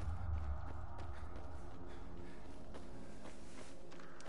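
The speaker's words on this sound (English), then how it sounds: "I'm hearing footsteps all around me." Footsteps in Dying Light 2 pad along steadily beneath a dense, droning game ambience, soft and fairly distant, with no voices over them.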